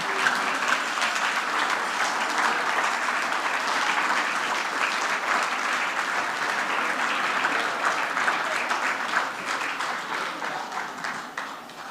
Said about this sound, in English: to please stand so we can see who you are and give you a round of applause